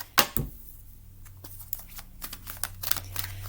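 Tarot cards are shuffled by hand, giving quiet crisp riffling and irregular clicks and slaps at close range, with no talking.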